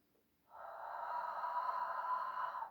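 During a Hatha yoga warrior pose, one long steady breath comes in close after a moment of quiet and holds as a soft, even airy rush to the end.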